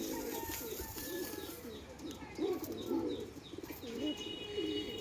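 Giribaz pigeons coo softly in low, repeated throaty phrases, with faint chirps and background hiss around them.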